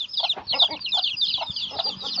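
A Bangkok rooster clucking close by, with busy high chirping from other fowl layered over it, steady and fairly loud.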